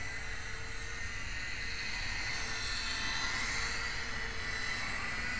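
A small FlyZone PlayMate RC airplane flying over a residential street, a faint, thin buzzing whine of its electric motor drifting steadily over background noise, with no talk.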